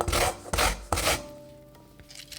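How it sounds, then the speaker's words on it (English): Lemon zest grated over a grater into a chickpea salad with parsley, three quick close rasping strokes followed by quieter scraping, no talking. "grate the zest of half a lemon into the mixture as well"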